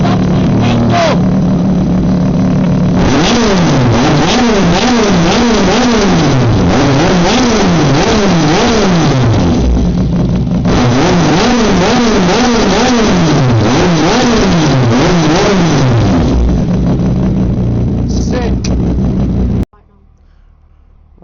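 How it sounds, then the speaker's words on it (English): A car engine fitted with an SC48 exhaust revs hard and loud up close, climbing and falling in repeated rising pitch sweeps with a pause between bursts, then cuts off abruptly near the end. "I have to do the exhaust sound. This SC48 sound is sick."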